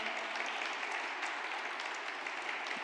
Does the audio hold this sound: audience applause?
yes